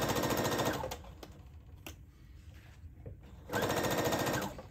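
Sewing machine running a straight stitch along the dart lines of a color-blocked camisole, with two fast rattling bursts at the start and end and a quieter pause in between with faint handling sounds, heard close up.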